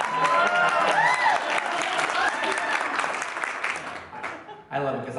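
Audience at an expo panel for A Goofy Movie at House of Mouse Expo 2021 claps and cheers loudly, a dense wash of applause with whoops that fades toward the end as a voice speaks.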